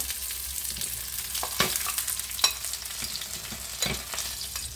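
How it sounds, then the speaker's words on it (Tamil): Sliced onions frying half-done in a pan for a Jaffna-style masala dosa filling, giving a soft, steady sizzle with occasional sharper crackles and stirring scrapes, fairly quiet and close, with no talking. "அரை பதத்துக்கு வேகட்டும் வெங்காயம் இந்த அளவுக்கு பொரிஞ்சால் போதும்"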